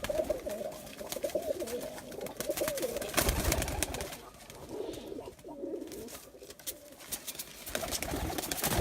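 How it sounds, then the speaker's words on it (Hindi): Breeder pigeons coo on a rooftop, with repeated soft, throaty calls close by and some rustling and wind in the background. "ये जनाब फैसल साहब ने जनाब सारे ब्रीडर कबूतर हैं।"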